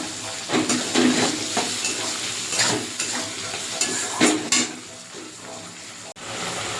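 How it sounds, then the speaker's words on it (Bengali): Ginger paste, garlic paste and chopped tomato frying in a pan for a fish-head muri ghonto, with a steady sizzle broken by repeated scraping stirs, close and fairly loud, then a brief clank near the end. "ভালো করে আদা রসুনের একটু ভালো করে কষিয়ে দেবো আমি। দিয়ে দেবো টমেটো কুচি।"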